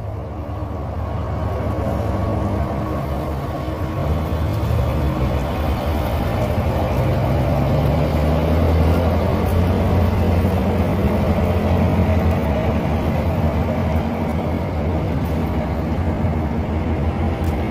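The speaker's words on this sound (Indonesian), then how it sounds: "truk mulai berangkat ya." Dump trucks carrying soil rumble off from a toll road construction site, giving a continuous engine drone that holds level from start to finish with no voices over it.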